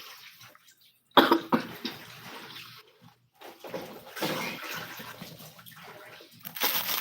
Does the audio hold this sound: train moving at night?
no